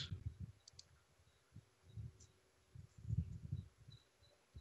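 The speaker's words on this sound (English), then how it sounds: "So now double click on this" Computer mouse clicks, several small dry clicks coming in quick pairs at an irregular pace, close and fairly quiet against low room noise.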